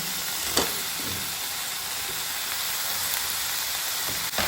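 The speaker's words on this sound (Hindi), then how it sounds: "अब यहाँ पे मैं डालूँगी बॉईल किया हुआ हमारा गोभी, और उसी के साथ पोटैटो" Boiled cauliflower and potato sizzle steadily in a frying pan, a dense, even crackle close by with a couple of sharp utensil clinks.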